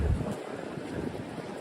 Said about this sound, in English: it's starting to get really windy